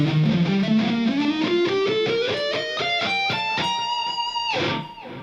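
Rapid distorted electric guitar sweep picking. The notes cascade quickly up in pitch in a smooth, continuous run, loud and close, then cut off near the end.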